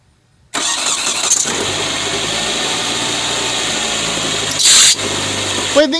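A car engine with a slipping fan belt runs loudly at a steady idle with a high, squealing whine layered over it, briefly flaring louder midway and again near the end.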